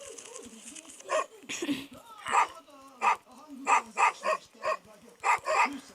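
A dog in the video game Dog Simulator barks and yips repeatedly in short, uneven bursts, close and fairly loud, with a brief whimpering sound early on.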